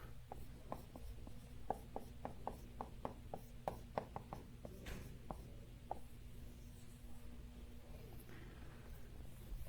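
Chalk or marker strokes tap and scrape on a board during a polytopes math lecture, a quick irregular run of short marks that are quiet and close, followed by longer rubbing strokes.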